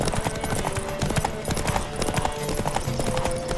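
Horse hooves clip-clop at a steady trot in The Witcher 3 game, continuous and fairly close, with a brief whinny and scattered in-game sounds over the rhythm.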